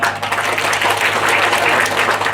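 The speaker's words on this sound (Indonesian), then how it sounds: "Kita tepuk tangan untuk semua ini." Loud, dense applause from a church congregation at a silver jubilee celebration of a religious brother's vows, sustained and close for a couple of seconds.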